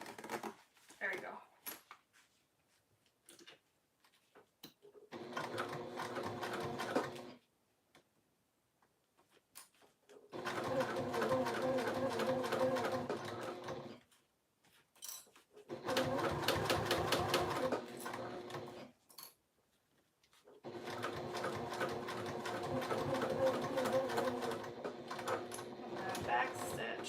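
Sewing machine stitching a fabric pouch, running in four long whirring bursts separated by short pauses, close and steady, with brief quiet gaps between runs.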